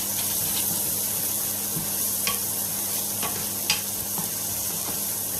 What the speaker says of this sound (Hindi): मटर ऐड करेंगे। फिर इसको हम फ्राई करेंगे।